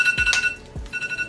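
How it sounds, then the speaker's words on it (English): A phone alarm goes off nearby, a loud electronic ringing pattern of repeating high tones with short gaps, sounding alone without talk. "That's my alarm."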